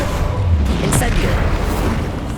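Incendio fire spell in Hogwarts Legacy, a loud whooshing burst with a bright crackling flare near the middle over a low rumbling battle background, with game voices present.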